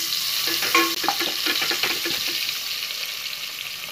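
Green chili, onion and curry leaves sizzle and crackle in hot oil, a close, dense frying hiss with brief stirring clatters early on, steady and alone.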